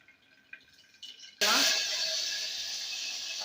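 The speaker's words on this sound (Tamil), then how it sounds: "நான் வரமிளகா போட்டுக்கேன்." Dried red chillies drop into hot oil and break into a sudden loud sizzle that keeps crackling steadily, after a few soft clicks and a voice speaking.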